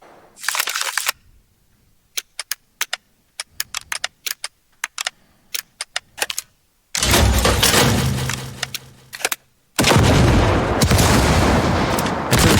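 Sharp video game card interaction sound effects: a run of quick clicks and snappy hits, then two long bursts of loud, roaring explosive shooting noise.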